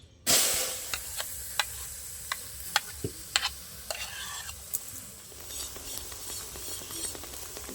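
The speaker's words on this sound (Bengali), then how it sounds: "এবার কড়াইতে আমি পেস্ট করা গাজরটা দিয়ে দেবো।" Carrot paste sizzles in a kadai, a soft steady frying hiss broken by scattered clicks and scrapes of stirring, faint and close with no talk.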